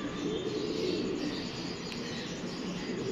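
A pigeon coos on a rooftop among kept pigeons, its calls set against a steady, dense background hiss with no talking.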